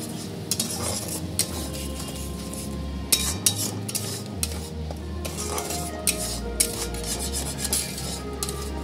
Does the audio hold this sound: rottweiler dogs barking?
no